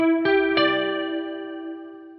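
A clean-ish electric guitar with chorus lets three notes, a root, minor third and minor seventh, enter in quick succession and ring together as a sustained chord that gradually fades.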